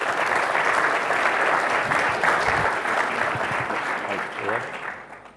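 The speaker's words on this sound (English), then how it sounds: "Big applause, please, for Neil." An audience at a Munich tech conference applauds as a presenter named Neil is welcomed to the stage, loud sustained clapping from a large crowd that gradually thins and fades out.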